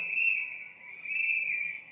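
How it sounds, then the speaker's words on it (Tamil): A whistle is blown in two shrill sustained blasts with a short dip between them, loud and close with no talk. "நீ ஊதுரல ஐயா ஸ்டாலின் காதே கிழிஞ்சிரும் போலயே."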